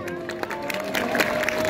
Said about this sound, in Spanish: Fuerte el aplauso por su tercer lugar en el concurso de Catrina